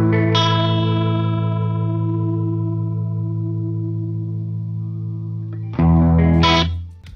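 Electric guitar played through the rotary setting of a micro effects pedal, a long sustained chord with a swirling, wavering chorus-like shimmer, then a brief louder strummed chord near the end, no talk.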